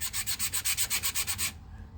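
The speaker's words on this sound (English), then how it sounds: "It's very easy to sand." Hand sanding of ResinCrete filler, about eleven steady back-and-forth abrasive strokes, close and rhythmic, then the scraping stops with only quiet room tone.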